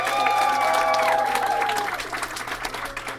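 Audience applause and cheering fill a small rock club crowd at a live show, dense and sustained across the stretch, slowly thinning toward the end with lingering tonal music or feedback beneath.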